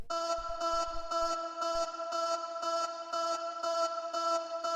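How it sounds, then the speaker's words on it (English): A short vocal stab sample in a deep house track repeats steadily on every downbeat, a bright clipped "oh" that loops about ten times with a faint low kick under the first few hits. "After that we have this vocal stab which sounds like this."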